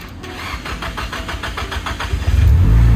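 A Nissan Silvia's new SR20 engine starts for the first time: a loud, steady rhythmic cranking churn for about two seconds, then the motor catches and settles into a deep, rumbling idle.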